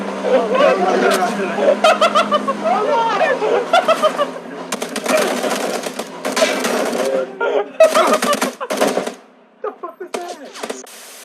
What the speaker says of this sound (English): So many people shooting at us